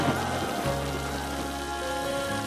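Steady rain pours down during a stormy evening, a dense even hiss with a low steady rumble underneath, close and continuous, with no voices.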